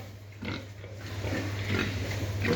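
Piglets in a farm pen grunt in repeated short bursts, close and moderately loud over a steady background hum, with no talking.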